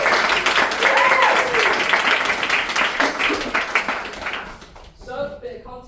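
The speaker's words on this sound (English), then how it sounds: "Zoe, Steve, and Jay, give them a round of applause" Live audience clapping for performers at a scratch-night musical stage show, a few seconds of scattered, moderately loud applause with a voice over it, fading out before a short stretch of speech.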